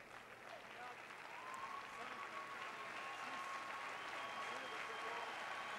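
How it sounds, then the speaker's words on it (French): Audience applause fills the hall after a savate boxing bout, steady broadband clapping mixed with crowd noise that holds at an even, fairly loud level throughout. "On peut les applaudir, s'il vous plaît."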